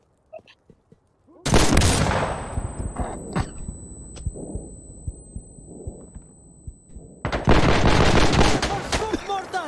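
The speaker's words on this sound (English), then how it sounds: "Mortars." Mortar fire in the shooter game Insurgency Sandstorm, booming close blasts and rumbling explosions that open loudly, fade into scattered thuds, then return as a heavy barrage, with voices speaking under the action.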